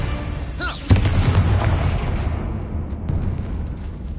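A Confringo spell detonates in the Hogwarts Legacy video game, with a sharp blast followed by a deep, rolling rumble that slowly fades over several seconds.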